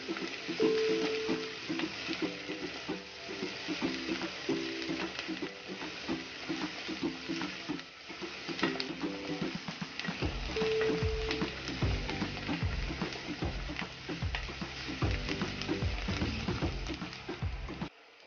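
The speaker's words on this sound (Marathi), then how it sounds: "चांगलं गुलाबी होईपर्यंत आपल्याला परतून घ्यायचंय आहे" Onions sauté in a pan until pink, a continuous close sizzle with occasional spatula scrapes and light taps that grow more regular toward the end.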